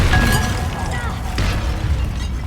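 Confringo fire spell going off in Hogwarts Legacy, two booming bursts a second apart over a layer of game music and ambience.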